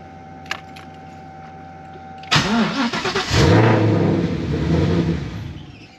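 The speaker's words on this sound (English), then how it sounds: "try and start the car." A car fitted with a twin-turbo Ford Coyote V8 cranks and fires, catching abruptly into a loud rough idle that wavers and settles, after a brief faint click and quiet hum beforehand.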